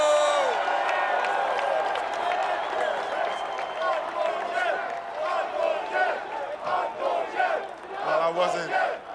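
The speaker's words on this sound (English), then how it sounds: "let's give a huge round of applause for Uncle Jeff" A large outdoor crowd at the Denver Nuggets NBA championship rally roars, whoops and shouts for Jeff Green, a dense, sustained wall of voices with some clapping mixed in, swelling again near the end.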